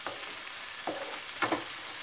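Onions sizzle steadily in a hot pan, with a couple of brief scraping sounds from stirring.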